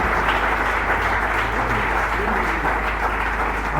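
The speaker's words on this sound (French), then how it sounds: "Est-ce qu'on peut acclamer pour la gloire du Seigneur?" A church congregation claps and cheers in praise during a French-language service, dense sustained applause filling the space at full volume, with crowd voices mixed in throughout.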